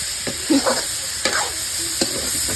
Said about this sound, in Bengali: মা চিংড়ি মাছ দিয়ে করলা ভাজি করতেছে